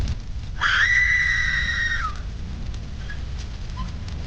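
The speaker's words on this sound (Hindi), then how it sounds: "हवन के दौरान बहुत चीखने चिल्लाने की आवाजें आने लगीं।" A single shrill scream rises and holds for about a second and a half, then fades into a low murmuring background, heard during a havan ritual in a house.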